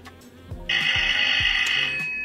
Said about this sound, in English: that's a pretty loud alarm, so you should be able to hear it